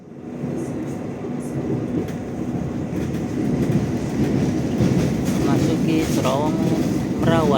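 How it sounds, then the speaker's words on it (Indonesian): The Ijen Express passenger train runs through the Garahan tunnel, its rumble building into a dense, loud roar with rhythmic clatter and squealing, wavering tones toward the end. "Terowongan Garahan kereta api Ijen Express pada pukul 14:07."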